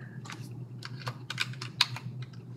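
Computer keyboard keys clack in an irregular run of quick taps and presses during drawing work in modelling software, close and clear over a low steady hum.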